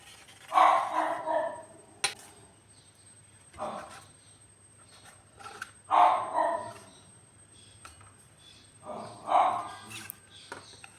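A dog named Lulu barks in repeated sharp bursts about every few seconds from a moderate distance in a kitchen, with a faint steady hum underneath.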